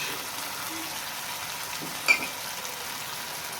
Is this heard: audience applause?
no